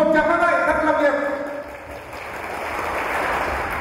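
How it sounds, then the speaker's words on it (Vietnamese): Applause at an engagement ceremony, beginning under the fading tail of a voice or music and then settling into a steady wash of clapping that carries on to the end. "xin chúc mừng một tràng pháo tay thật long liệt"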